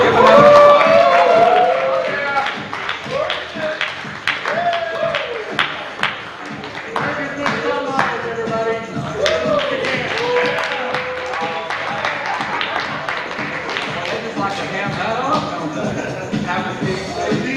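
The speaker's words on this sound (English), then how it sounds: "Give another applause." An audience applauds at a high school graduation hypnosis show, a steady wash of clapping and crowd noise running throughout while a voice talks over it.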